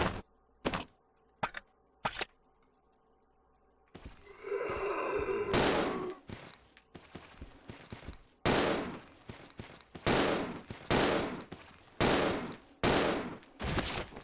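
Gunfire in the video game Resident Evil 0, sharp single shots spaced apart, then a muffled rumbling burst, followed by a run of loud regularly repeated shots with ringing metallic tails.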